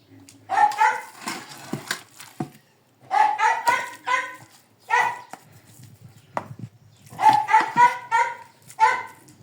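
Dogs bark and yip in short bursts separated by pauses, close by, with a person's voice mixed in.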